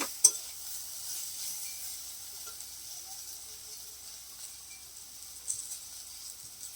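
Spice paste with chili powder fries in a pan with a soft, steady sizzle while being stirred. A faint scrape of the utensil is heard near the start, and no one talks.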